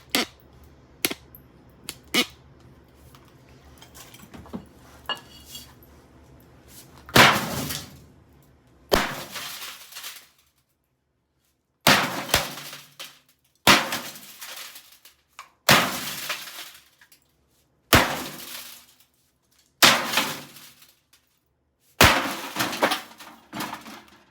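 A sledgehammer smashing an Oster microwave: about eight loud, separate crashing blows with shattering and rattling debris, spaced by short pauses, following a few lighter knocks.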